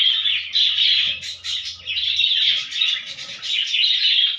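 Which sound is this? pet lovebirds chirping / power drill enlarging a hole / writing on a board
pet lovebirds chirping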